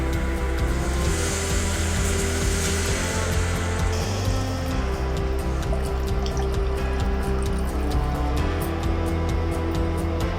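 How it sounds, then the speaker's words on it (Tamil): Three tumblers of water poured into a cooking pot for Tamil-style dal rice, with a continuous close splashing and trickling that lasts throughout over a low background hum. "இப்போ 3 டம்ளர் தண்ணி ஊற்றுறேங்க."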